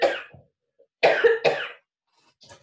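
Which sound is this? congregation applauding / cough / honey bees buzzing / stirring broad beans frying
cough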